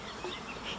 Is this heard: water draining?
no